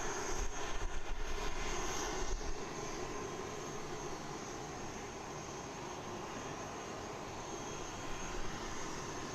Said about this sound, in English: Using quite a lot of the runway there before its rotation.